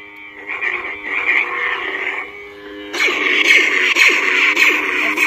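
A Zerka Corp neopixel lightsaber gives off its lock-up effect, a buzzing, crackling electric hum that jumps louder and harsher partway through and keeps flickering, close and steady without speech.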